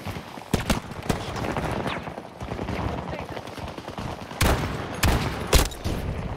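Bursts of gunshots in Battlefield 2042, several sharp cracks standing out against a steady rumbling background, at moderate loudness with a voice talking in between.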